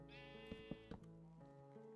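A Minecraft sheep lets out a clear, wavering bleat, followed by a few soft clicks and faint in-game background tones.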